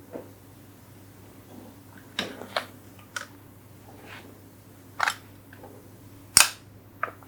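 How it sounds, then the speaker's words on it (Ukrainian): Metal parts of a PK machine gun click and clack during assembly, scattered sharp snaps at irregular intervals over a low hum, close and moderately loud. "Все, можемо збирати кулемет."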